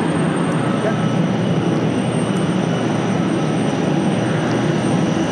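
A loud, steady ATR 72 turboprop airliner drone with a constant high whine on top, filling the whole stretch without a break.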